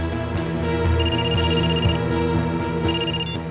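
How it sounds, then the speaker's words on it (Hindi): Telephone ringing indoors, a loud electronic ring that repeats in bursts over a dense, sustained musical background. "अभी अभी फोन आया"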